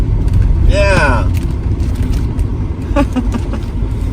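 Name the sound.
car driving onto Highway 99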